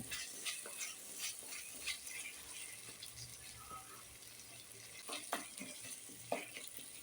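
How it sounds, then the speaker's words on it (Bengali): Cashew paste and spices being stirred in a frying pan for chicken do peyaja, with a soft sizzle and scattered spatula scrapes and taps, fairly quiet and steady throughout. "এবার কাজু বাদাম বাটাটার সঙ্গে মশলাগুলো ভালো করে মিশিয়ে নেব"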